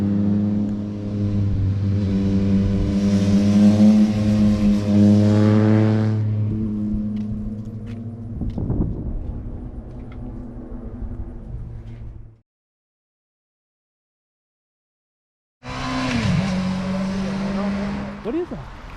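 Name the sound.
Chevy car accelerating and skidding on a mountain road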